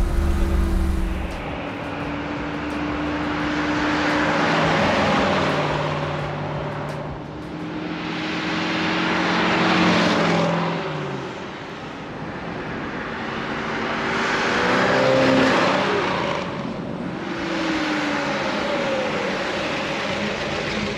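A 1969 COPO Camaro replica with a 427 V8 pulls past during a test drive, its engine swelling and fading in several long passes with rising revs and shifts, loud and fairly close, with no talking.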